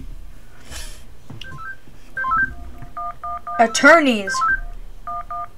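Cell phone keypad dialing in the video game Henry Stickmin Collection: a run of short, evenly spaced electronic touch-tone beeps sounding alone, interrupted midway by a loud burst of voice.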